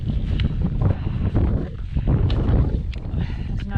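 Strong wind buffets a windy mountain range in the Welsh Carneddau, rumbling and gusting hard against the microphone in an unbroken roar.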